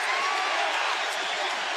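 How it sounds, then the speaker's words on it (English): A basketball arena crowd at an NBA playoff game between the San Antonio Spurs and Seattle SuperSonics roars in a broad, steady wash of noise with scattered whoops, heard from a distance. "The crowd reacting"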